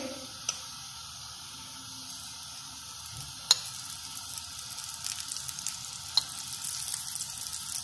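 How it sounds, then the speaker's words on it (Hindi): Lachha paratha sizzles gently in a pan with desi ghee, a faint steady frying hiss broken by a few sharp spatula taps and scrapes. "अब हम इसके ऊपर अव्वल देसी घी लगाएंगे"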